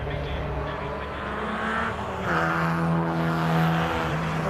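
MG race cars pass by at Cadwell Park circuit, engines droning and rising as they come through, with a commentator talking over the continuous motor noise.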